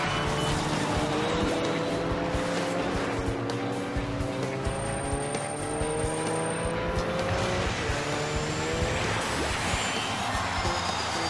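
Racing cars in the Kinect Joyride video game: a steady engine roar with rising and falling pitch sweeps, tire squeals and passing cars, loud and continuous throughout with no pauses.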